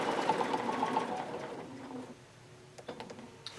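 A sewing machine with its stitch regulator switched on runs a steady straight line of stitches, a continuous buzzing hum for about two seconds that then stops, followed by a few faint clicks and light handling sounds.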